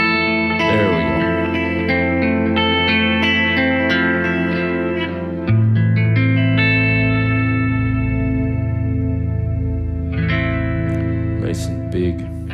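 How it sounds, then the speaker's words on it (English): Electric guitar played through the Warm Audio Pedal76, using delay and modulation, so sustained notes swirl and repeat in wide echoing layers, loud and up close. "You get all of that interesting modulation out of the delays."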